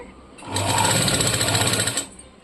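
A sewing machine stitching a cross neck piece runs in one quick, even burst of rapid needle clatter lasting about a second and a half, close and alone.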